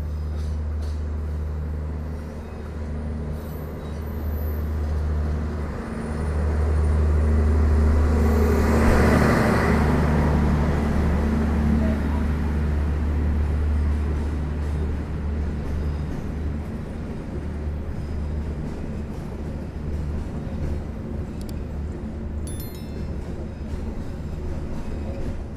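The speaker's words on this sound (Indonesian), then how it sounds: "Yang dipersiapkan masuk di jalur 1 ini adalah rangkaian kereta api Argo Bromo Anggrek" The Indonesian Argo Bromo Anggrek passenger train rumbles steadily into platform 1 of a station, its low engine drone swelling then holding, with squeals and clatter, no talking.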